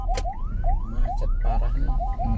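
An ambulance siren wails behind a car stuck in heavy holiday traffic, repeating rising sweeps at a fast steady rhythm over a low engine rumble, fairly close and loud.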